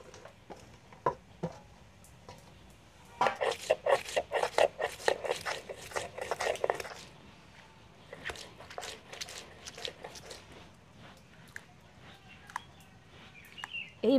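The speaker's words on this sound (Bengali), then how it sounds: "এবারে পেঁয়াজ টমেটোটা বেটে নেব।" Onion and tomato are ground into a paste for puti fish paturi. A burst of quick, rhythmic scraping and grinding strokes runs for several seconds, set between sparser scrapes and taps in a quiet kitchen.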